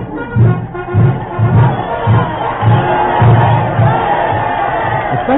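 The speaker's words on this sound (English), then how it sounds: "The spectators are wildly cheering the exploits of their legendary hero, Tamburlaine, shouting their approval at the top of their lungs." A stage play's crowd of spectators cheers wildly and shouts approval for a legendary conqueror, loud rhythmic bursts of massed voices rising and falling close by.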